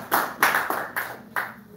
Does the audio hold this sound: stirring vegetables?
no